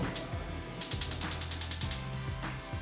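A jiko cooking stove is switched on, giving a rapid series of ratcheting mechanical clicks, close and fairly quiet, in short bursts with a steady run in the middle.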